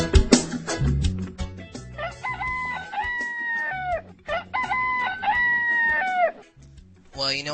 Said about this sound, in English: Fred the Rooster's piping in. The sound of the rooster